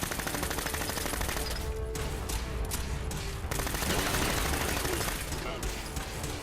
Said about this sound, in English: automatic weapons really do their work on these synths